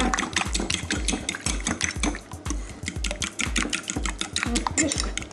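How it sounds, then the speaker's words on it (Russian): Electric kitchen mixer whisking ingredients for a zucchini and chicken casserole, a steady rhythmic whirring churn with regular pulses throughout, close and fairly loud. "Это миксер у тебя?"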